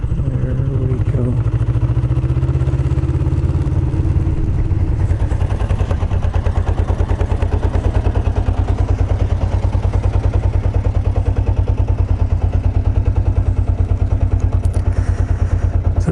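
Kawasaki Ninja 250 motorcycle with carburetor work done, ridden steadily with a loud, continuous low engine drone and rattle close to the rider, while a voice talks over it.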